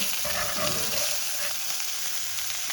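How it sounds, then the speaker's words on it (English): Halibut skin sizzles steadily in a hot frying pan as it crisps, a dense, even crackle heard up close with no talking. "So what I'm doing is crisping up the skin."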